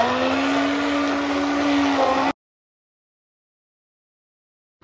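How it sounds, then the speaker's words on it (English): A blender grinds cold coffee mixed with peanut butter, coffee and sugar, a loud, steady motor whine close by for about two seconds before cutting off abruptly into silence. "Now in this I have added peanut butter, coffee and sugar also. So now what we'll do is grind it like this."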